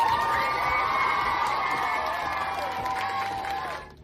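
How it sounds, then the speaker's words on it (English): Children and a crowd cheer and whoop together at an elementary school board meeting, a loud sustained burst of high voices that fades out after about four seconds. "Can you help me cheer him on?"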